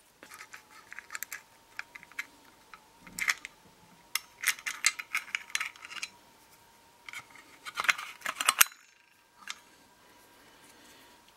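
A wrench loosens the nut on the blade of a TECCPO TDMS22P circular saw, giving close, quiet bursts of clicking, ratcheting metal taps and small mechanical rattles over about nine seconds, then near silence.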